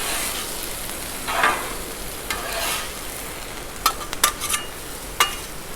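Chicken stir fry sizzling on a 36-inch Blackstone griddle, a constant hissing sizzle with occasional scrapes and sharp metal spatula clinks against the flat top, close, steady and without talking.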